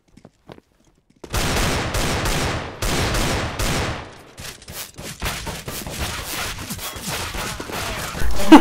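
Tec-9 gunfire in a video game, several loud rapid bursts of automatic shots separated by short gaps, opening after a near-silent start and ending with scattered single shots.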